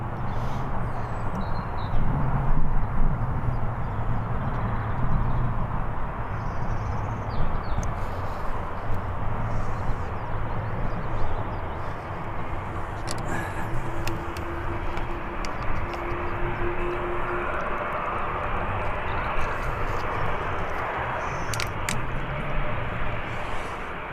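Jet departing Birmingham Airport: a steady, broad low roar holds at a fairly even level throughout, the sustained rumble of a distant aircraft on its take-off run and climb, with no voices.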